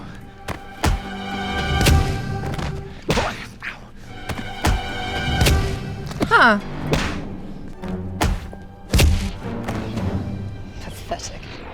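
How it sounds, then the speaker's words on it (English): Heavy thuds and whacks from Sif's successive hits on Loki in a film fight scene, several blows spaced a second or two apart with voices and a strained cry between them. "each of Sif's successive hits get louder and louder on each pass"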